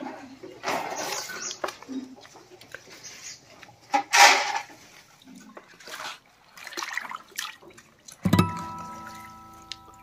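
Green rabbit fodder is rinsed in water at a rabbit farm, with irregular splashes and sloshing bursts, some louder swishes, and a brief ringing knock near the end, all close by and without speech.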